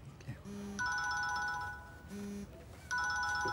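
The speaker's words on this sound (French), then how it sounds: "Tu réponds jamais, toi, au téléphone?" A telephone rings with a repeating electronic ringtone pattern, two clear cycles of tones over a quiet room with faint background noise.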